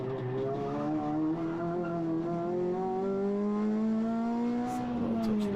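A Renault Clio RS 200 laps the narrow Three Sisters circuit on a track day, its engine droning loud and close with steadily climbing pitch as it accelerates, and faint tire noise near the end.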